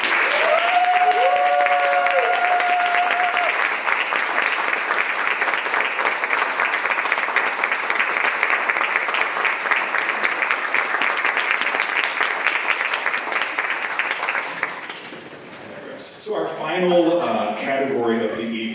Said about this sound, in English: Let's give Mattie a round of applause.